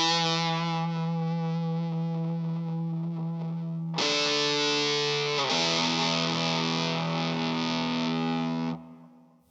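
Sustained chords on a Rickenbacker electric guitar played through a fuzz distortion effect, loud and buzzing with thick harmonics, shifting to a brighter, harsher chord midway before ringing out and fading; no talking.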